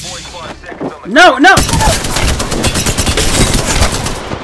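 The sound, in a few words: gunfire in a video game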